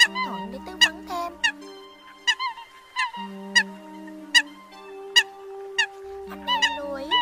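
Eurasian coot calls recorded as a lure track: sharp, repeated honking notes in an irregular series over a steady tonal hum, loud and close with no talk.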